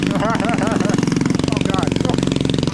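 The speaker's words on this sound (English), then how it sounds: "Oh, we got the mini bike." A mini bike powered by a lawnmower engine rides past on a city street, its small single-cylinder engine putting out a rapid, steady chugging beat that stays loud and close throughout, with a voice talking over it.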